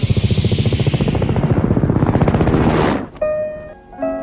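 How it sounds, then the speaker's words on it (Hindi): A helicopter flies overhead, its rotor beating in a loud, steady, rapid chop for about three seconds before cutting off sharply, leaving fainter tonal sounds behind. "जब हमारे सरों पर पहुंचा तो देखा हेलीकॉप्टर है।"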